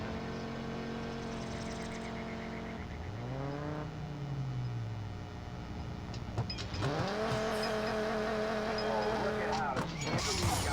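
A race car launches from the line in Need for Speed No Limits in a desert setting, with engine tones sweeping up through the gears, tire squeal and a loud, dense roar building after a brief lull.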